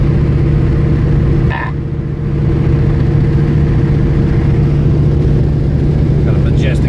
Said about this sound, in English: Them side pipes kind of noisy.